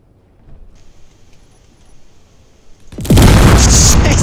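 Explosives in Space Engineers go off with a sudden, very loud blast after a few seconds of quiet hum, then keep roaring in a dense, sustained detonation to the end.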